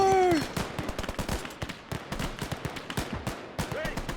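Dense gunfire rattles through a Gates of Hell Battle of the Bulge fight, with rapid machine-gun bursts and sharp shots crackling continuously at varying distances for several seconds.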